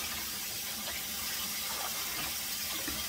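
Tap running cold water into a stoppered sink for washing turnip greens, a soft steady rush and splash that continues unbroken and fairly quiet, with no talking.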